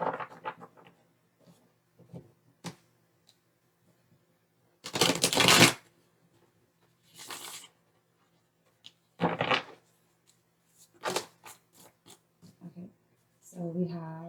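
Tarot cards being shuffled by hand in a few separate bursts: one long rustling riffle, then shorter flutters and taps spread across the stretch, with quiet pauses between.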